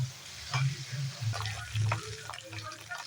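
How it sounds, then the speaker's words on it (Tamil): Onions sizzle and fry in oil until golden for a kuzhambu, with a steady crackle broken by stirring scrapes and low clattering knocks in the pan. "வெங்காயம் நல்லா பொன்னிறமாக வதங்கிடணுங்க"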